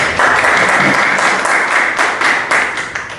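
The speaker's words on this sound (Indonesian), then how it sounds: "terima kasih tepuk tangan dulu kelompok 1." Students in a classroom applaud a presenting group: brisk, close, evenly sustained clapping from a small crowd for about three seconds, with no talk over it.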